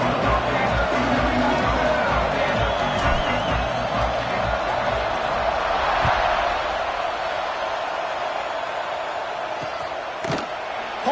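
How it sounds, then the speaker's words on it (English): Stadium crowd buzzing after a score in a college football video game, a dense, steady roar of distant cheering and hubbub with a few thuds and brief sharper sounds over it. "this crowd is buzzing after that last score"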